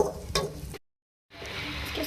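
Chopped onions frying in a pan for a chicken and potato curry, a close, soft sizzle with a light stir, cut by a brief silent gap before the frying resumes.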